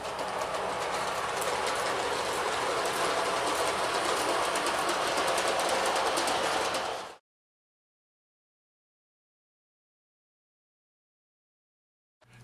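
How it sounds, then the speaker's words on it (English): An LGB model train controlled by DCC runs along its track with a close, steady buzzing whir of its small motor and wheels. The sound stops abruptly about halfway through, and silence follows. "that train is starting up again"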